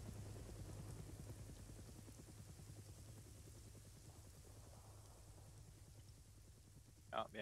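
A helicopter in the video game Arma 3 drones steadily in the background with a rapid rotor chop, fairly faint and constant throughout, ending with a brief sharp sound.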